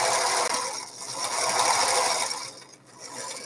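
A sewing machine runs steadily through the clip with a continuous mechanical whir and ratcheting clatter, fairly close and loud, with no talking.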